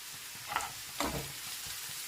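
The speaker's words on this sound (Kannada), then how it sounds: "ನೋಡಿ ಸಾಕು ಆನಿಯನ್ ಫ್ರೈ ಆಗಿರೋದು ಇದಕ್ಕೆ ನಾವು ಸ್ವಲ್ಪ ಕ್ಯಾರೆಟ್ನ ಸೇರಿಸ್ಕೊಳ್ಳೋಣ" Onion and carrot sizzle gently in a hot pan, a soft steady hiss broken by two brief stirring scrapes, quiet and with no voices.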